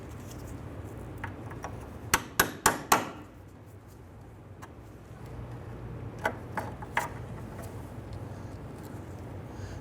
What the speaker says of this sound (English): you can use a small punch to go ahead and work the remainder pieces of the cotter pin out through the back side